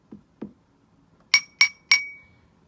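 Light taps on a drinking glass filled with water ring out three times in quick succession, with a lower, sustained glassy tone that decays after the last strike, preceded by two soft dull knocks, close and quiet, no speech.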